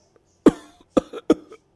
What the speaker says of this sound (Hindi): उसे खांसी आने लगती है।